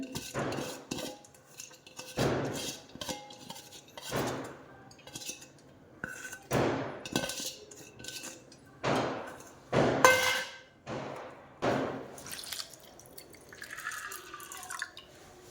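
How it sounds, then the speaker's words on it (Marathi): Washed lentils and rice being tipped into a metal pot for soaking, followed by water poured in: a series of clattering, rattling bursts and metallic knocks, then a softer trickle of liquid near the end. "मी यामध्ये पाणी घालत आहे"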